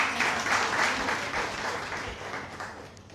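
An audience at a Gujarati book discussion gathering breaks into applause, a dense wash of clapping that starts fairly loud and slowly tapers off over about three seconds.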